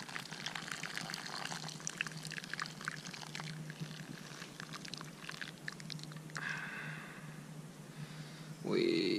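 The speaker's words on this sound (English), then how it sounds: "We pour it into the dehydrated food." Hot water is poured from a camp pot into a pouch of dehydrated dog food on a Colorado Trail hike, a steady trickling stream that ends in a louder splash.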